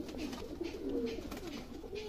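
A female pigeon with a closed tail coos softly in a few low, rolling phrases, faint against a steady background hum.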